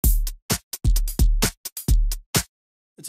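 A short, chopped music loop in REAPER's media explorer, sped up to match project tempo, plays quickly, with punchy bursts of bass-heavy sound separated by brief gaps, ending in near silence.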